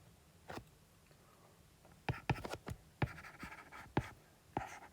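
Handwriting on a board during a lecture: a few short scratching strokes at first, then a quicker cluster of sharp taps and scrapes, fairly close and faint in an otherwise quiet room.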